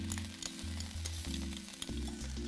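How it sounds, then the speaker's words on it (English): Garlic sizzling in a hot wok glazed with oil, a loud steady frying hiss with occasional stirring, no voices. "Reglaze your wok with some oil. And now you're going to add in your garlic."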